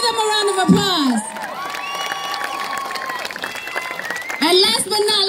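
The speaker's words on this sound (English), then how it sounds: "Give them a round of applause." An audience applauds and cheers for a youth dance group at an Eritrean Independence celebration in Seattle, steady clapping with whoops and children's shouts, a loud burst at the start and again near the end, voices talking through it.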